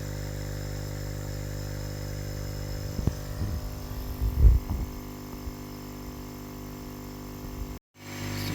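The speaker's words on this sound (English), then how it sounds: "Now we've connected one of the aquarium pumps instead of the original Untitled pump." An aquarium air pump feeding air assist for a CO2 laser hums steadily with a low, buzzing drone, joined briefly by a few knocks and handling thumps before cutting out near the end.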